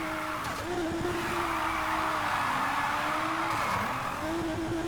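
A modded Nissan GT-R drifts in Need for Speed on badly worn tires, the engine droning steadily while the tires squeal in long wavering howls that dip and return, close and loud with no voices.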